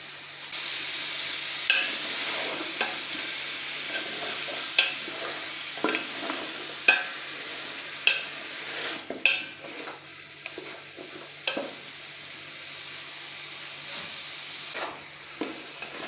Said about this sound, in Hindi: गोश्त क्योंकि बिल्कुल गला हुआ है तो इसको हम एहतियात से मिक्स करेंगे ताकि गोश्त टूटे ना, इसलिए मैं इसको आराम से मिक्स कर रही हूँ।